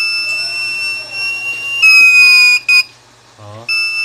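A repaired TBE 4000W pure sine wave inverter on 12 volts sounds its buzzer alarm: a steady, piercing electronic tone that grows louder in stretches and briefly cuts out and returns, with no one speaking.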